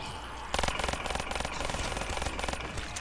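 A machine gun fires in Call of Duty: Black Ops 3 Zombies, a sudden sustained burst of rapid, evenly spaced shots that rattles on loud and close for several seconds.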